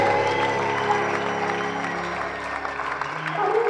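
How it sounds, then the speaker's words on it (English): A church congregation claps hands in a brief burst of dense, steady applause while music plays underneath with a sustained low tone. "Are you not clapping your hands here?"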